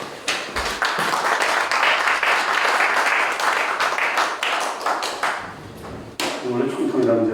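Audience applause at a Korean church pastors' forum, greeting a pastor called up to give closing remarks: steady, dense clapping from a roomful of people, fairly loud and close, holding for several seconds with a brief dip near the end.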